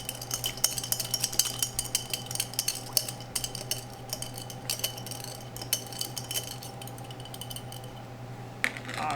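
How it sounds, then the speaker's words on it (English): Salad dressing whisked in a bowl, a steady run of light metallic clinks and taps from the whisk against the sides, close up and without talk over a faint low hum. "Let's whisk it one more time before we add it"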